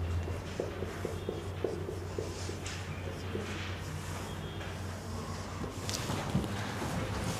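A teacher writes words on a board during an English vocabulary lesson, making faint scratching strokes in short irregular bursts over a low steady hum, with no talking.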